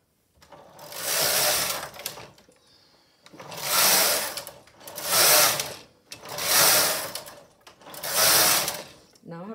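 Silver Reed SK155 chunky knitting machine knitting rows: five loud, close whooshing, rattling carriage passes of about a second and a half each, separated by short quiet pauses with faint mechanical clicks.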